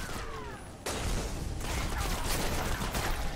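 An Answering Chord legendary auto rifle firing in a Destiny: The Taken King PvP match, a dense, continuous stream of rapid shots that grows louder partway through and holds steady to the end.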